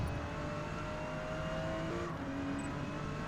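Porsche GT2 race car in Forza Motorsport running at Maple Valley down a hill toward the front straight, its engine a steady loud drone with sustained tonal whine throughout and no talk.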